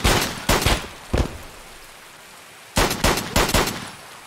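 Hand cannon gunfire in the shooter game Escape from Tarkov: a quick burst of three sharp shots, a lone shot, a pause, then another rapid cluster of four or five loud reports.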